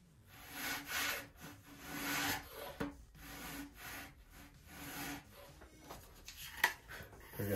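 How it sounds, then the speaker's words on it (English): Balsa wood being sanded by hand on a model airplane flap for a Top Flite .60 size P-40E Warhawk kit, a steady run of close, dry rasping strokes with uneven rhythm and a few sharper scrapes. "I love balsa sanding dust."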